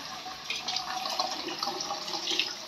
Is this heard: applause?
no